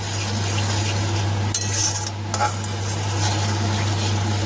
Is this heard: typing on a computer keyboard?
no